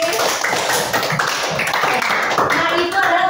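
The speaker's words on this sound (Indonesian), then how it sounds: "Tepuk tangan lagi." Classroom audience clapping on cue during a teacher training session on computational thinking and unplugged coding, a steady dense patter of hands lasting throughout at close range.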